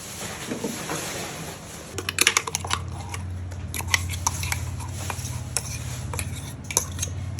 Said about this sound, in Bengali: এবার মাংসটাকে মিক্সড করে নেওয়া হচ্ছে